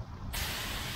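A pressure washer rinses a commercial metal roof, its loud steady spray hiss cutting in suddenly after a brief quieter moment and then holding constant and close.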